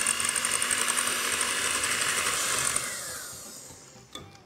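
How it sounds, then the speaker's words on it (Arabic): An electric mixer beats eggs, oil and sugar for a sweet potato cake batter, giving a steady, close motor whir that runs for a few seconds before winding down and stopping. "هضرب بقى كل ده كويس مع بعض."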